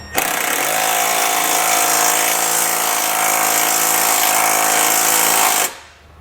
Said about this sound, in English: So what I like to do is take that 15mm socket and draw the nuts on